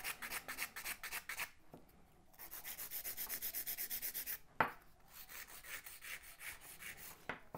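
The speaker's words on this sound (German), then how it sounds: "Beim Feilen an den Seiten gehe ich wirklich nur gerade mit der Feile nach vor und zurück" Steady back-and-forth rasping of a nail file shaping the sides of an almond-shaped gel nail, quiet and close, with a few short pauses between the rhythmic strokes.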